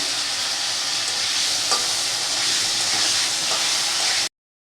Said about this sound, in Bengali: ছোটো ছোটো আলু নিয়ে নিয়েছি আলুগুলো ভেজে নেব একটু ফুলকপিও দিয়ে দিলাম